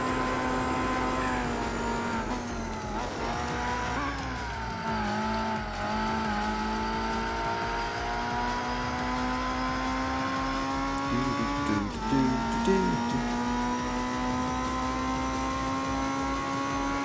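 A TVR race car engine in Gran Turismo 4 holds a steady high drone, with brief dips and climbs as it shifts and revs back up, continuous and close throughout.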